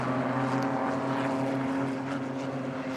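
Porsche race cars passing on the Snetterton circuit, a dense steady engine drone with sustained harmonic tones, fairly close and continuous throughout, no talking.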